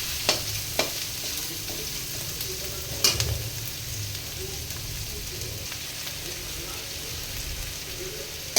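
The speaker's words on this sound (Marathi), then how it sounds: "गॅस थोडा कमी करू, म्हणजे कांदा आपला फ्राय झाला पाहिजे." Chopped onion frying gently in a pan over low gas for hakka noodles, a soft, even sizzle running throughout with a few faint spatula taps.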